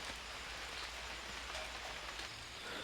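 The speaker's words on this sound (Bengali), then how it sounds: "আই হোপ যে বৃষ্টি শীঘ্রই থেমে যাবে" Steady rain falls at a river valley resort with pod houses in Kaptai, a continuous even hiss of drops on surfaces that fills the scene without pause or voices.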